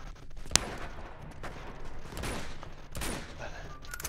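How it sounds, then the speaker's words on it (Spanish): Distant gunfire in the Uncharted 2 video game: scattered shots and short bursts at a distance, with one sharper crack early on, over a steady game ambience. "Escuchando tiros, pero no son de aquí cerca"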